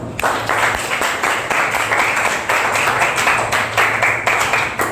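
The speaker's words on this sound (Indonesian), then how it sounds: "Ya, kita beri aplaus untuk kita." A school class applauding together in a room, loud continuous clapping from many hands, close and dense, lasting several seconds without talk.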